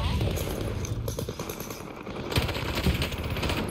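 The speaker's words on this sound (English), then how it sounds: "They're shooting me." Automatic gunfire from a Call of Duty match in hardcore team deathmatch or on Rebirth Island, played on PS5: rapid, clustered shots over a constant busy game din, growing louder toward the end, with a voice talking over it.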